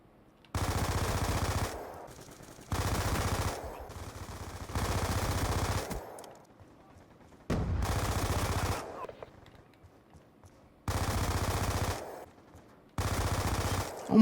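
Heavy automatic gunfire from a weapon in a Call of Duty game comes in six loud sustained bursts of roughly one to two seconds each, separated by quieter gaps with faint game sounds.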